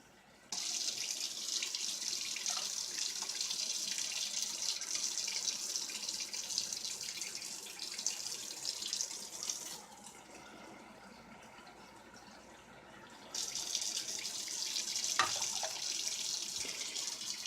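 Tap water runs steadily into a measuring container while preparing candied figs, a continuous close splashing stream that briefly quiets midway before flowing strongly again, with no talking.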